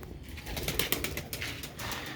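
Sialkoti black-faced Sheikh pigeons cooing softly in a loft, low murmuring coos overlapping against a faint, noisy background with no voices.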